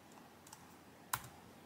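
A few faint key presses on a Chromebook keyboard, with soft ticks and one sharper, louder click near the end, in an otherwise quiet room.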